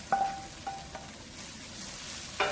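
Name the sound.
frying sausage and ground beef in a pan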